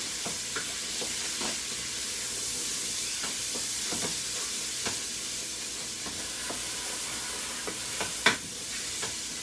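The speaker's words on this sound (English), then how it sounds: "get the onion nice and brown and just about" Onion and bacon fry in a pan for New England clam chowder, a steady close sizzle broken by scattered stirring clicks and scrapes, with one sharper knock near the end.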